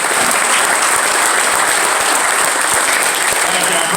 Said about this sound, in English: let's give one big round of applause for Eric Richards.